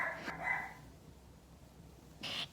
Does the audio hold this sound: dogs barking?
yes